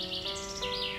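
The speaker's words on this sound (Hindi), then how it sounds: "ओ नन्ही चिड़िया।" A small bird gives bright, quick chirps at close range, clear and fairly loud with a steady tone beneath.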